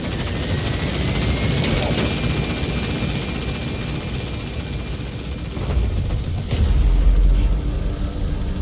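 Helicopter arriving for an extraction in the Metal Gear Solid V video game, a continuous loud rotor and engine roar that swells near the end, with no talking.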